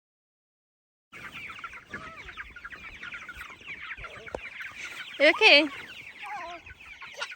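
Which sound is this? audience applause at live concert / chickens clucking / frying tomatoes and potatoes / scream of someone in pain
chickens clucking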